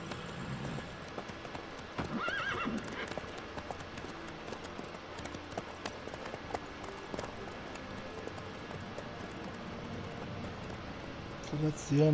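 A horse in The Witcher 3 clip-clops steadily along a road, with a whinny near the start and another at the end, under in-game character dialogue and ambient background.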